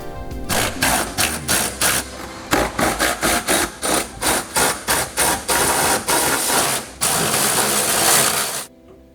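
Bolts on the fuel tank straps of a Subaru STI GC8 are undone with rapid, repeated mechanical bursts at a steady rhythm, close and loud, followed by a short continuous whirr before stopping.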